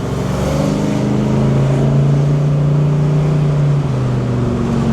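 A 1970 Chevelle, a big restored car, drives and corners with a steady, loud engine drone whose pitch rises and falls as it accelerates and eases off, close and continuous throughout.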